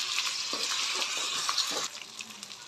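Onions and ginger fry in a pan with a close, steady sizzle while a spoon stirs them in repeated scraping strokes. The sizzle drops a little in level near the end, and there is no talking.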